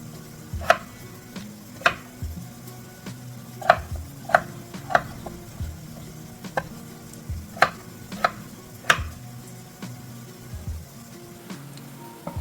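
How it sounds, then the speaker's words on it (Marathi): Potatoes are cut into large pieces with a knife on a board, giving about ten sharp chops spaced unevenly, some in quick pairs, over a faint sizzle of something cooking in the background. "आपल्याला मोठ्या आकारामध्ये कापून घ्यायची आहेत दोन माणसांसाठी दोन बटाटे भरपूर झाली आहे ना"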